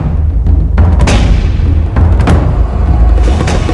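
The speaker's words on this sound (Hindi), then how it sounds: "कुछ भी नहीं था, तो फिर अचानक ये धमाका।" A loud, deep explosion with a rumbling low boom and several sharp blasts cracking through over a few seconds.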